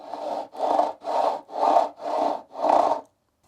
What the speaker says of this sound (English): Now I'm just going to put a bevel on the fret ends here.